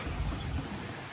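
Steady rain pouring down on a flooded farm, a dense continuous hiss of drops close by with no voices.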